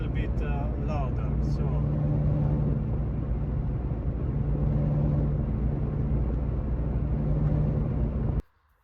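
Inside a moving car with a bad wheel bearing, a steady low hum and road rumble fill the cabin, holding level before cutting off abruptly near the end.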